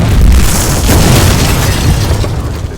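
The 25th Space Shuttle mission lifts off in a loud, continuous, broadband rumble that stays heavy and steady throughout, with no voices over it.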